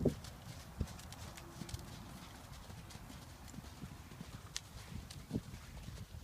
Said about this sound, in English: Just a little canter.